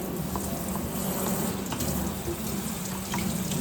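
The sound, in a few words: tap water rinsing a tie-dyed shirt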